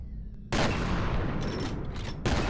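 Sustained automatic gunfire in the shooter game F.E.A.R., starting abruptly after a quiet moment and continuing as a loud, dense burst of rapid shots with heavy low booms.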